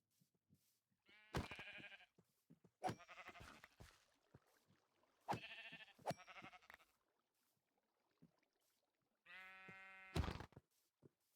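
Sheep in Minecraft bleat in several short, close, wavering calls, separated by near silence, with no talk.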